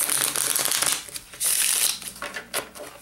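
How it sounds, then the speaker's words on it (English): Onirim game cards, including four small dream maze cards, being shuffled by hand, giving a run of crisp papery riffles and flutters in bursts with short pauses, fairly close and alone. "All right, so I shuffled in those four little dream maze cards."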